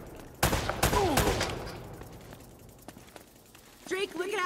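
Gunfire in the video game Uncharted, a sharp burst of rapid shots near the start followed by scattered fainter reports, with game characters shouting over and around the shooting.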